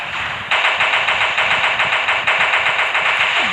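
Rapid automatic gunfire in a video game rattles loud and close in a fast, even burst that starts after a short lead-in and runs without pause, with no voices over it.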